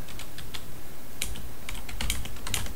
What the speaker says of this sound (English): normally, you type in the command